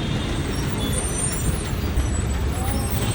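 City bus on a busy Bangalore street, with a steady low rumble of engines and traffic and a faint hiss that fits air brakes, heard at a constant level throughout.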